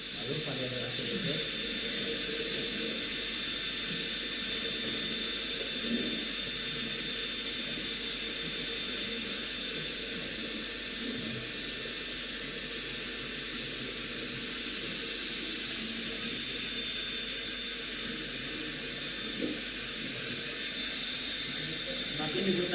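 Electric DC motor-generator set, separately excited, running steadily after the main power is switched on, giving a continuous loud machine whine and hum with a broad hiss, constant throughout with faint talk underneath.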